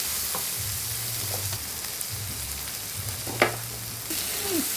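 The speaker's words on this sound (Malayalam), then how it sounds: "വെളുത്തുള്ളിയും കൊച്ചുള്ളി എല്ലാം ഒന്ന് വഴറ്റിട്ടുണ്ട്" Garlic and small shallots sautéing in a hot pan, a steady close sizzle with occasional stirring scrapes and light clinks, no talking.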